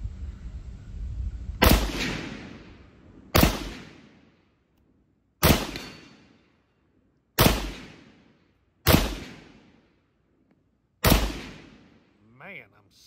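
Six sharp SKS rifle shots ring out outdoors, spaced a couple of seconds apart, each a loud crack followed by a long fading echo.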